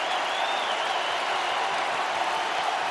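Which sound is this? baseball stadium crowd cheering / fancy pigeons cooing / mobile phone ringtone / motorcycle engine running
baseball stadium crowd cheering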